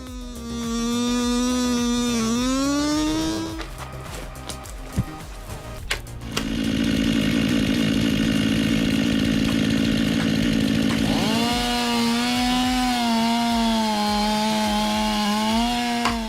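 A chainsaw cuts into a tree, its engine whining at high revs and dipping under load, with a brief break of clattering before the saw screams again, loud and close.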